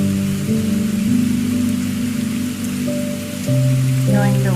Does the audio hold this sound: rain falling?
yes